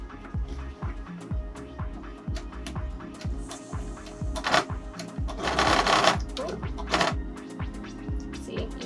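Sewing machine stitching slowly along an inner seam of a pleated cosplay skirt, a rapid steady run of needle clatter close by, with a brief louder burst of fabric rustle near the middle.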